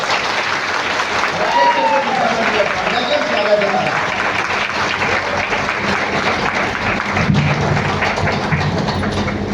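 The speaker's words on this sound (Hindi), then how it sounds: "आपके जोरदार तालियों के बीच में आवाज ही नहीं आ रही है।" Loud audience applause fills a hall at a Nutricharge training program, dense and continuous throughout, with voices and crowd noise mixed into the clapping.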